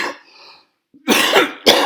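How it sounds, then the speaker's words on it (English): Two harsh coughs burst out close and loud, one after the other, following a short breathy sound and a moment of silence. "damn COVID cough."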